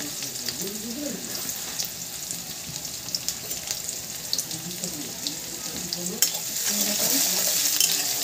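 Sliced onions with a pinch of salt fry in a pan for a country-chicken curry, giving a steady close sizzle broken by occasional clinks and scrapes of a stirring spoon.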